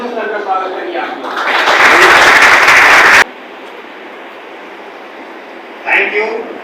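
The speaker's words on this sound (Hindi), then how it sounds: "एक बार जोरदार तालियों से सर का स्वागत करिए आपका।" Loud audience applause welcoming a guest speaker at a school event, swelling into a dense burst for a few seconds before cutting off, followed by quiet room tone and a brief voice.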